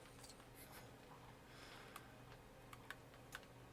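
Faint, sparse clicks as Aussie the cat presses keys on a computer keyboard, a few isolated taps against a low steady hum.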